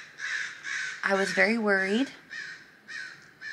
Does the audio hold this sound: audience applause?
no